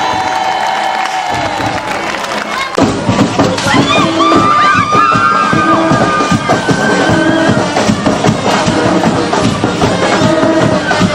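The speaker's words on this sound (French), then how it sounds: "J'entends un tonnerre d'applaudissements." Crowd applause and cheering at a Basse-Terre carnival band contest, loud and sustained for the whole stretch, with whoops and shouts rising over a dense roar of clapping.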